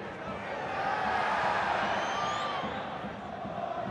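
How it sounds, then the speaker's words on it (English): A large football stadium crowd at the FA Cup fourth-round tie between Wrexham and Sheffield United, a broad steady roar of cheering and chanting swelling gently, with a commentator talking over it. "Crowd retains its energy, though."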